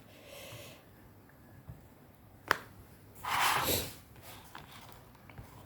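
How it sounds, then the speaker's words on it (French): A wet, nasal sniff from a person with a head cold stands out near the middle, followed by a longer snorting breath through the nose; otherwise quiet. "Excusez-moi, je renifle."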